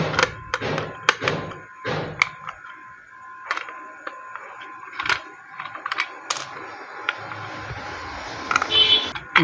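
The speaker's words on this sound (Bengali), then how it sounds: "প্রথমে আমরা এই বোর্ডটিকে খুলে নেব।" Screws being loosened and an electrical switch board being opened, a series of sharp clicks, taps and small metallic rattles at close range, with a few louder knocks and scrapes and no talking.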